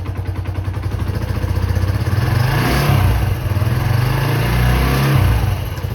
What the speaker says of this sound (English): she sounds a lot better than I expected a 125cc bike to sound